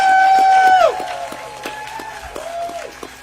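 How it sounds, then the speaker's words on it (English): A crowd at a Freedom to Vote rally gives scattered applause: sparse, distinct claps ring out over several seconds. A high sustained tone slides downward and fades early on. "Let's give a hand of applause to everybody."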